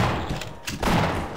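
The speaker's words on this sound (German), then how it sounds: "Und ich werde beschossen." Gunfire in the video game Half-Life: a brief burst of muffled shots and thuds, fairly close and loud over a dense game soundscape.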